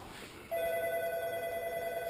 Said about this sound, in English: We're just going to let that phone ring.